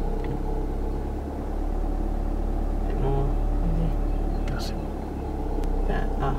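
A learner driver's car engine idles and rises slightly as gas is gently applied, a steady low rumble running under an instructor's ongoing talk.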